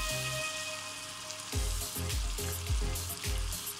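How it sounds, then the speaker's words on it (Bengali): Flour fries in butter in a pan for cream of mushroom soup, a steady soft sizzle broken by several rhythmic scraping stirs. "এবার ময়দাগুলোকে একটু বাটারের সাথে ভেজে নিচ্ছি"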